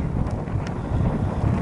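Strong wind buffets the microphone on a bicycle ride in Russia, a loud, continuous low roar with no other clear sounds.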